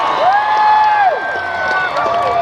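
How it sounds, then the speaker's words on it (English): Rodeo crowd at the Siskiyou County Fair cheering and whooping loudly, with sustained shouts and rising whistles or voices close by, a dense continuous roar through the whole stretch. "Yeah, I hear you, crowd."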